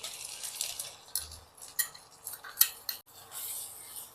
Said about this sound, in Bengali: এর মধ্যে আমি যে যে পেঁয়াজ রসুন কাঁচা লঙ্কা টমেটোর পেস্ট করে রেখেছিলাম সেই পেস্টটা দিয়ে দিচ্ছি